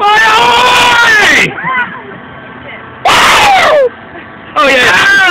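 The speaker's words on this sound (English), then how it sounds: "You're not supposed to scream there" Riders scream loudly and all together on an amusement park ride at Pleasurewood Hills, coming in three intense bursts separated by quieter stretches of rushing wind noise and mumbling voices.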